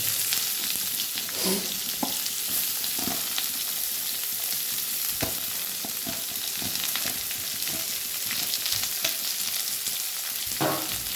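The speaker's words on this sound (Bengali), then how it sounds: "তো পেঁয়াজগুলোকে এবার আমি একটু লাল লাল করে ভেজে নেবো" Chopped onions sizzle in a pan for a home-style chicken and potato dish, a steady crackling hiss broken by scattered spatula scrapes and taps.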